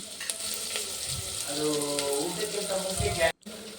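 Onion with slit green chilies frying in hot oil for tomato bath, a steady close sizzle with stirring scrapes and a brief clatter near the end.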